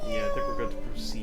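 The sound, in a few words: cat meowing in Trials of Mana video game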